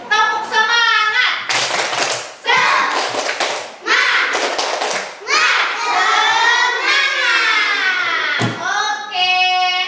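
Indonesian schoolchildren in a classroom clap together in a steady rhythm, loud and close, with young voices chanting and singing over the claps.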